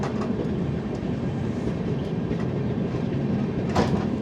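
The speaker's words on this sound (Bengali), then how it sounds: "এই ট্রেন এখন ধীরে ধীরে চলছে আমাদের, খুব হালকা হালকা ট্রেন এগোচ্ছে লাল সিগন্যালের ওপর দিয়ে" The Howrah–New Delhi Rajdhani Express rolling slowly over fog-wet track at a red signal, a steady low rumble of carriages heard from inside the train, with a brief brighter rattle near the end.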